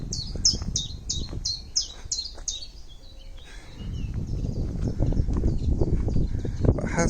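A bird sings from somewhere in an oak tree on a gorse-covered slope, repeating a bright series of quick high notes near the start before a louder rustling, rumbling background takes over.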